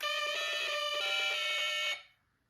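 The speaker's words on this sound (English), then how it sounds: "this time it's going to sound like a fire engine" A Snap Circuits Extreme SC-750 alarm circuit sounds a loud electronic siren in the style of a fire engine, a steady buzzy harmonic tone that holds for about two seconds and then stops abruptly.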